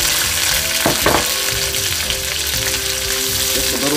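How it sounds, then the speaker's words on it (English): Bell peppers sauté in beef tallow in a hot wok, a steady loud crackling sizzle throughout with a couple of sharper stirring scrapes near the start, no voices. "What we're gonna do is we're gonna saute off these peppers first"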